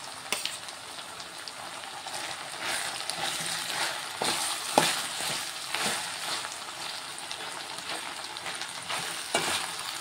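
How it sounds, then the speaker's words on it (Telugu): Brinjal (eggplant) pieces fry in a pan with a steady, dense sizzle, broken now and then by sharper crackles and pops, close and continuous throughout with no talking. "వంకాయ ముక్కలు చూద్దామండి. ఇవైతే ఫ్రై అవుతున్నాయి."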